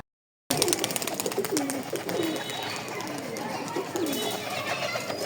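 Pigeon cooing with soft rhythmic calls over a steady background hiss, a sick, emaciated pigeon being hand-fed and treated with a paste, other birds faintly chirping nearby.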